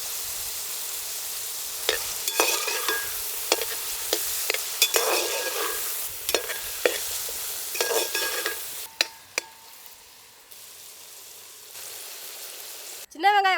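Shallots, green chilli and curry leaves sauté in a hot pan, a steady crackling sizzle with repeated scraping stirs for about nine seconds, then quieter frying with a few sharp knocks and a brief rising squeal at the end.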